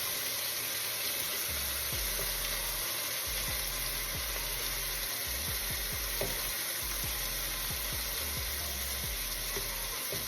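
Sausage fries in a greasy pan on high heat, a steady loud sizzle with crackling pops throughout, close up and without voices.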